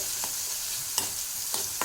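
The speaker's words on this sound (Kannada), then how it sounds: "ಅದನ್ನೆಲ್ಲ ನೀಟಾಗಿ ಒಗ್ಗರಣೆಗೆ ಹಾಕ್ಕೋಬೇಕು ಅದು ಚೆನ್ನಾಗಿ ಫ್ರೈ ಆಗಬೇಕು" Blended chili paste frying in hot tempering oil for curd rice, a close, steady sizzle broken by a few sharp stirring scrapes.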